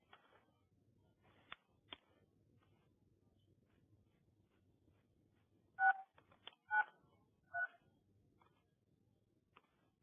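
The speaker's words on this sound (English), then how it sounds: "Hey, Mark, I can hear you dialing, I think." Telephone keypad dialing tones on a conference line, a few short isolated beeps followed by a quick cluster of tones, faint over a quiet background hiss.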